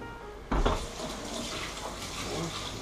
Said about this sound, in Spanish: Un poco la tabla, le damos un agua también